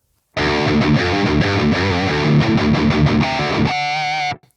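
Electric guitar through an overdrive effect on a Line 6 POD Express with a PV5150 amp model, playing a continuous run of gritty, distorted chords and notes that ends in a sustained ringing chord and a sudden cutoff.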